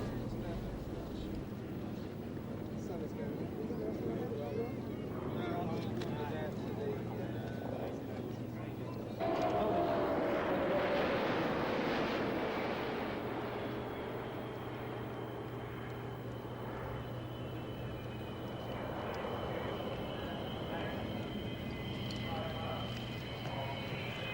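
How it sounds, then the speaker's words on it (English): A MiG-29 jet fighter powered by twin Tumansky R-33D engines roars past, a broad rushing whine swelling midway and then fading, with someone talking over it throughout. "Power is provided in both the trainer and single-seater by a pair of Tumansky R-33D engines."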